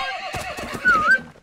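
A horse in the medieval combat game Mount and Blade Warband gives one loud, clear whinny, rising and falling over a second, with faint hoof clip-clop and game ambience beneath and no talking.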